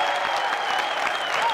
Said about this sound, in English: You give her applause right now.